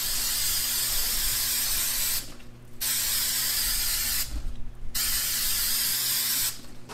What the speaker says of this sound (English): So now that we have a nice even layer of spray glue